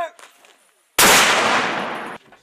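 A mortar round fired by soldiers of the 173rd Airborne Brigade booms out as one loud, sudden blast that rings and rolls for over a second before cutting off, followed by quiet background.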